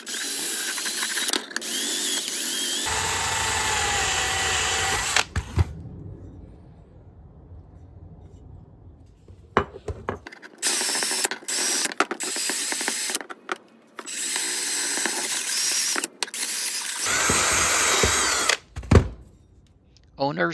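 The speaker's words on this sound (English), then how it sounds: "I did wire wheel the ratchet with my drill to remove as much loose rust as possible." A drill spins a wire wheel against a rusty ratchet, with loud grinding bursts separated by quieter stretches and sharp clicks. A voice talks in between.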